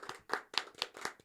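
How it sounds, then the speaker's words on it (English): A few people clapping for a guest on a faith talk show, sparse and uneven claps in a short burst, close and fairly quiet, with no voices. "Round of applause, everybody."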